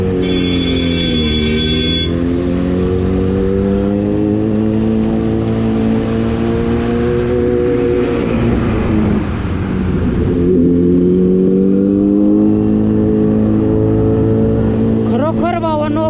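A Yamaha MT-15 motorcycle engine drones loud and close while riding, its pitch rising and falling through revs and gear changes, with wind rush underneath and a brief high whine near the start.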